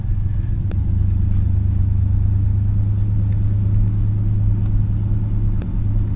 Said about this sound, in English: She hasn't seen this truck move in years